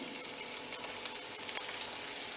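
Oil heating and sizzling in a pan over a gas flame while cooking Nepali tarkari, a steady bright hiss with small crackles, close and continuous with no talk.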